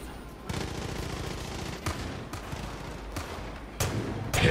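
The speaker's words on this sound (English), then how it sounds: "50 caliber round straight to the noggin." Several sharp, heavy gunshots from a .50 caliber rifle in the video game Far Cry 5, spaced roughly a second apart, loud against a steady game background.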